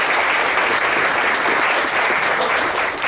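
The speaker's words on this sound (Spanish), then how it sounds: "Merecen un aplauso a los jóvenes." Congregation applauding the young singers at a church service, a dense, steady wash of clapping from many hands that fills the room for the whole stretch without pause.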